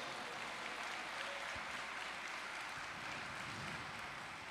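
A church congregation applauds during a sermon by Pastor João Marcos Goes, giving a steady, dense wash of clapping that holds evenly from start to finish with no voices on top.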